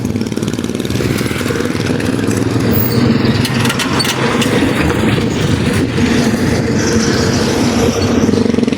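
A vehicle engine runs steadily at close range, a loud continuous low rumble with a medium-engine idling character lasting throughout, with no talk over it.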